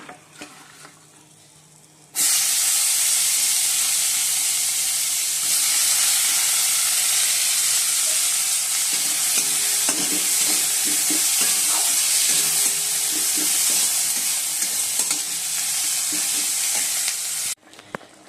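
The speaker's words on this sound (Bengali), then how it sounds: "এবার পেঁয়াজটা ভেজে নেব।" Onions frying in a hot pan give a loud, steady sizzle with stirring scrapes. The sound runs alone, close up, for about fifteen seconds and stops abruptly at the end.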